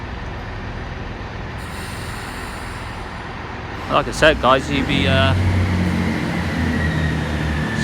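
A train at Cheltenham Spa, a two-platform station, rumbles steadily in the background while someone talks close by over the noise.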